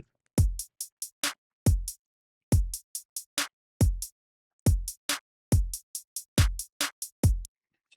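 A punchy electronic drum beat alone, with deep kicks and snappy hits in a steady, syncopated pattern and crisp high transients.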